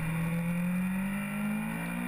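Inline-four engine of a BMW S1000R naked motorcycle pulling hard under acceleration, a steady rising drone climbing in pitch over about two seconds, loud and close with no talk.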